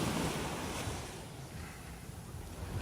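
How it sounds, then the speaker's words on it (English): Ocean surf washes steadily over a beach where the waves reach someone's feet, a continuous soft hiss and rush of water with light wind noise, fairly faint and without any voices. "The surf is splashing my feet"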